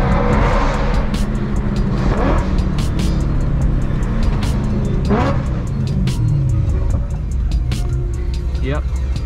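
Loud, continuous engine roar from straight-piped E92 BMW M3s, with raw exhaust crackle and revving rising and falling, cars droning close by with voices faintly underneath.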